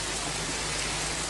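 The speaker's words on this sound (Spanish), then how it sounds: "Debido a la lluvia torrencial" Torrential rain pours steadily over an unattended parking lot at night, a dense, even hiss of water with no breaks, moderately loud and close, with no voices.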